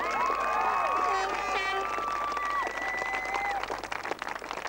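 Applause and cheering from a crowd after an All-Ireland intermediate final, sustained clapping mixed with whoops and high shouts, fairly loud and continuous throughout.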